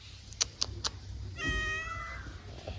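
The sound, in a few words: cat meowing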